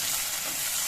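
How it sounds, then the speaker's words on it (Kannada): Finely chopped onions fry in oil in a pan for a rajma masala, giving a steady, close, even sizzle that runs without a break and with no voices. "ಸ್ವಲ್ಪ ಮೆತ್ತಗಾಗೋತನ ಫ್ರೈ ಮಾಡ್ತೀವಿ."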